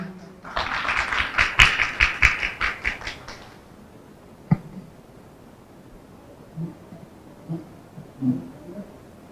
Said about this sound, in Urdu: ان کے لیے خصوصی تالیاں جی۔